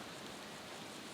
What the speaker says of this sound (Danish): Jeg ved ikke, om I kan høre det regne, men det gør det altså.